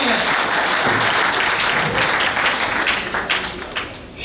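Sustained audience applause at an outdoor Hindi kavi sammelan, a patriotic poetry gathering at Pratap Gaurav Kendra, loud and dense throughout before thinning slightly toward the end.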